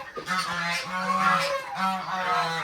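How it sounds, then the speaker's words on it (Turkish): Several incubator-hatched geese honk loudly and repeatedly at close range, a steady run of nasal calls with short pauses between bursts, alone without talk. "Bunlar makineden çıkan kazlarımız biliyorsunuz."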